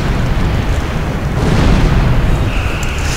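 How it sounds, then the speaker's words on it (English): Plasma torpedo launched from a starship in Star Trek Online, a loud broad rumbling burst that swells midway and trails off, with a faint higher tone entering near the end. "fire off another plasma torpedo there"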